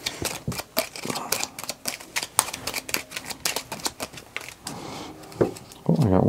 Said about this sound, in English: Can I ask you to collect these and shuffle them?